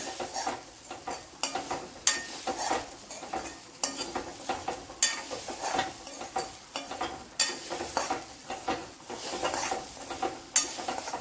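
Crushed spices sizzle and fry in a pan for a Kerala mackerel fish curry, with a soft constant crackle broken by repeated scraping stirs of a spoon against the pot, close up and without talk.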